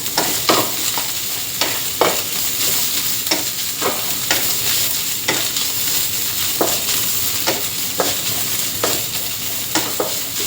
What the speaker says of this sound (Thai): ผัดไฟกลางๆค่ะ